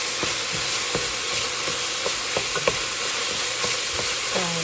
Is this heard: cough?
no